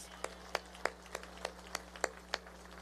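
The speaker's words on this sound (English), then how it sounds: "Please let's give another big round of applause for all of our coloring contest winners" A few scattered, distant hand claps ring out faintly at an outdoor festival of lights switch-on ceremony, spaced irregularly over a low steady hum.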